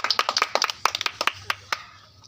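Children at a reflex party game clap their hands in a quick run of sharp claps that slows to a few scattered ones, close and fairly loud.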